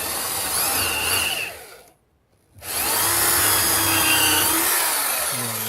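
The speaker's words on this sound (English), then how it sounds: "Let me drill one off to the side so you can see it." A 300W hammer power drill whines loudly as it bores a hole, stops briefly for a short silence, then starts up again and keeps drilling steadily.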